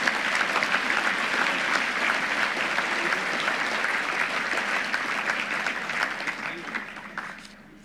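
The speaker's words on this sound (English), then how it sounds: "Let's give everybody a round of applause." An audience at an annual meeting and membership banquet applauds a special guest, a dense sustained clapping that carries on for several seconds before tapering off at the end.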